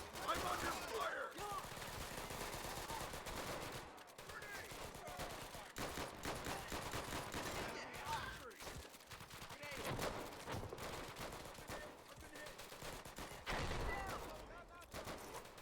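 Gunfire in Easy Red 2 on a custom map, a mix of rifle shots and machine-gun bursts crackling steadily across the whole stretch, fairly distant and layered like a busy battlefield.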